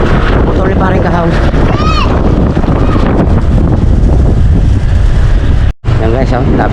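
A small boat motor runs steadily and loudly up close, with heavy wind buffeting the microphone and voices talking over the drone.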